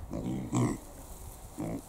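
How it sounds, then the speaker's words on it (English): Pigs kept on a suburban livestock allotment grunt in three short bursts close by. The low, throaty snorts come in an uneven rhythm, with a quiet gap before the last one. "3 pigs, 3 little pigs"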